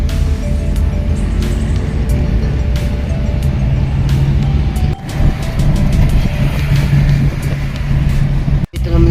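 Traffic rumbling along Aguinaldo Highway in Bacoor, Cavite, heard as a continuous low drone of car and truck engines passing nearby, with brief clicks and knocks on top.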